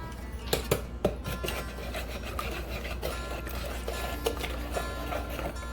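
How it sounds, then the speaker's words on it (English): Wet banana bread ingredients being whisked in a mixing bowl, giving a steady rubbing, scraping rattle with a few sharper knocks of the whisk against the bowl, close and continuous with no talking. "Use the whisk to whisk your wet ingredients together."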